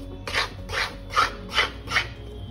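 Besan stirred and roasted in ghee in a pan: five regular scraping, rasping strokes about half a second apart, close and moderately loud with no voices.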